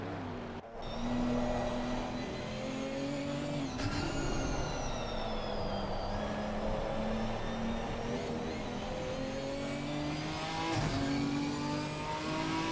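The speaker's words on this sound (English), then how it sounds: "What a monstrous noise from the Ford Cyclone V6 under the bonnet of that Ginetta." Ginetta GT4 race car with a Ford Cyclone V6 engine during an endurance race: loud, sustained engine roar with repeated rising and falling pitch through gear changes and revving, moderately close, with no talk.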